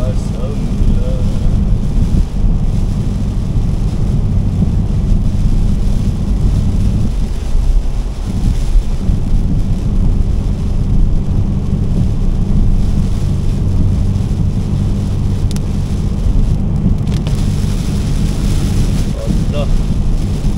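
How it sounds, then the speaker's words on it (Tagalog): Loud, constant roar of wind buffeting the microphone with heavy rain noise underneath, dense and unbroken throughout. "Lumakas ang ulan."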